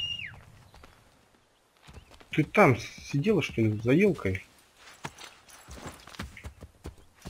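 Horse hooves clip-clopping in Assassin's Creed III, a few soft clops mixed with game ambience while someone speaks loudly over much of it.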